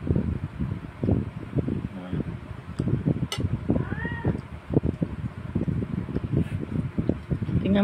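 A cat meows a few times, rising cries near the mic, under steady speech in Filipino and a background fan hum during a home dinner.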